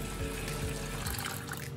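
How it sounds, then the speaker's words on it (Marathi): Clean water pours steadily and fairly loudly into a vessel of soaking dal and rice, a continuous rushing splash that eases off toward the end. "आता आपल्याला स्वच्छ पाणी टाकायचं"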